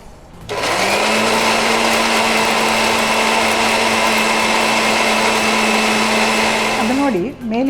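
A mixer grinder whirs loud and steady as it blends guava into a thick paste for halwa, starting abruptly, holding a droning motor pitch, then winding down at the end.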